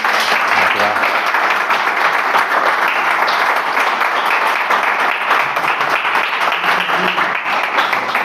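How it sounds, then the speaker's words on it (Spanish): Loud, dense audience applause at a philosophy lecture, a continuous wash of many hands clapping at once, sustained evenly throughout with no breaks or voices standing out. "Siempre que se dan unos aplausos"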